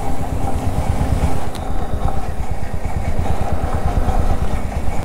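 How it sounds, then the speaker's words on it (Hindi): Motorcycle on a morning highway ride, its engine throbbing loudly and steadily up close with a rough, clattering pulse under the wind rush, no voices. "कुछ तो आवाज़ आ रही है बाइक से, आई डोंट नो क्या आ रही है, और बहुत लाउड हो गई है।"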